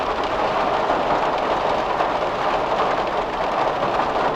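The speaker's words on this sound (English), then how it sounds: "that rain hitting the van is going to sound much sharper because you're not hearing it from inside the van" Rain drumming hard on a van's metal exterior, heard from outside the vehicle: a dense, steady, sharp patter with no reverberation, loud and continuous throughout without any voices.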